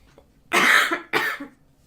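Two harsh coughs, close and loud, the first longer than the second, with quiet between them.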